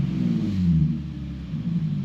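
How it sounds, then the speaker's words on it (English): Low engine rumble from an Infiniti G37 / Nissan 370Z being revved after a throttle body cleaning, a steady deep drone that swells slightly and eases back toward idle, close and fairly loud. "Rev the engine 2 to 3 times to make sure it returns to a proper idle"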